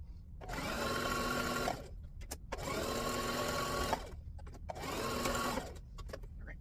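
A sewing machine stitches a jumbo pillowcase in three loud, steady bursts of whirring, separated by short pauses with faint clicks, heard close with no talk.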